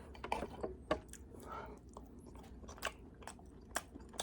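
Close, quiet chewing of a bite of buttered steak with lemon pepper, garlic seasoning and au jus, heard as soft, irregular wet mouth sounds and small crunches.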